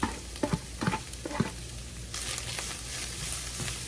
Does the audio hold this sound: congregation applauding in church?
no